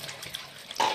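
Water running from a tap into a sink while warm water is prepared to rescue a blue-tongue lizard stuck in bitumen tar; a steady, faint hiss that swells louder near the end.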